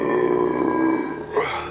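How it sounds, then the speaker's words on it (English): A man's deep, guttural burp from drinking Colt 45 malt liquor, a drawn-out rumbling eructation followed by a short rising yawn-like release near the end, close and fairly loud with no talking. "I'm waiting for a burp and I'm yawning."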